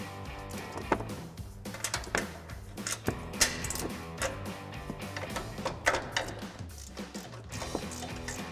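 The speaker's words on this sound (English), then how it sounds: "I'm gonna take a 15mm ratcheting wrench. We're gonna loosen these up most of the way for now." A 15mm ratcheting wrench loosens the upper strut nuts on a 2015-2020 Ford F-150 during a coil-over install, giving close, rapid ratchet clicks in quick bursts with brief pauses between strokes.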